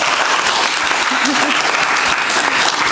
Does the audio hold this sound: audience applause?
yes